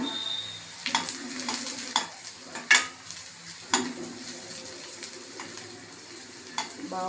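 Onion fries in a pan with cumin, black pepper and garlic powder, a soft sizzle under repeated sharp scrapes and clinks of a spoon stirring, close and fairly quiet.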